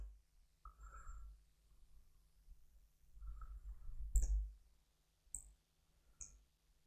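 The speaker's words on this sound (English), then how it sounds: "Right click on the project, then configure and convert to" Computer mouse clicks while working in the Eclipse IDE: a few sharp, separate clicks spread across a quiet stretch, close and clear, with faint desk handling noise between them.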